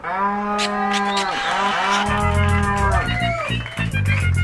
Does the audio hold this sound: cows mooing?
yes